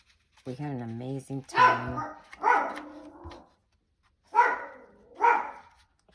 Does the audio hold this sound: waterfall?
no